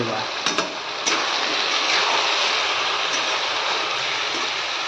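Cabbage and chicken with chopped garlic leaves sizzle steadily in a hot frying pan as they are stirred, a loud continuous hiss broken by a few sharp clinks of the spatula at the start.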